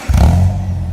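A Subaru Forester fitted with a Spec-D Tuning exhaust gives a brief, loud, deep revving burst up close, a low rumble that swells quickly and then holds.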